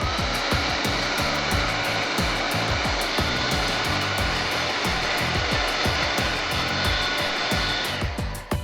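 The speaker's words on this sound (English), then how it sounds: "Carefully shrink the tubing using a heat gun or a lighter." A heat gun shrinking heat shrink tubing over an LED strip's cable for an electric scooter's deck lights, a steady close airy blower roar with rhythmic scraping or clicking underneath that cuts out near the end.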